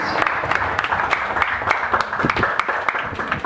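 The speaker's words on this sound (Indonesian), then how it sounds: "Kita berikan tepukan yang segera kepada" Audience applause at a Speakers' Corner gathering in Bundu Tuhan, a steady wash of clapping with scattered sharper hand claps throughout, moderately loud and continuous.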